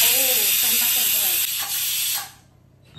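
Steam hisses from a pressure cooker whistle in a home kitchen, a loud broadband rush lasting about two seconds before cutting off, with faint voices underneath.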